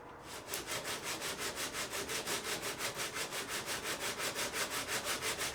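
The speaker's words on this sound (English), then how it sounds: "we sand away until they're completely gone, uniformly gone, refreshing the lines from time to time" Sandpaper works down wooden guitar soundboard braces in quick back-and-forth strokes, a brisk regular swishing rhythm, close and moderately loud, with no voices.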